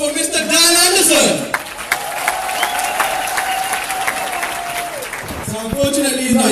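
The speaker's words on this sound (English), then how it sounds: "Let's give a huge round of applause for Mr. Dan Anderssen." An audience applauding at a LEO South Africa presentation, a loud, sustained crowd clapping mixed with cheering and some music or voices over it.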